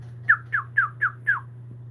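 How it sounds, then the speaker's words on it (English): A guinea pig at an animal rescue chirps five times in a steady, evenly spaced series of bird-like squeaks, close and clear over a low constant hum. "I actually recorded a guinea pig at the rescue chirping."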